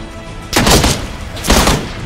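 Gunfire in PUBG gameplay rings out in two loud, sharp bursts about a second apart, each with a short ringing tail over a quiet game background.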